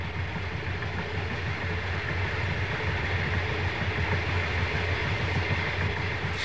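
Old Comet passenger train, nearly fifty years old, rolling along the rails in 1987 Australia: a steady, loud, unbroken rumble and rattle of wagons with a low engine drone, no voices.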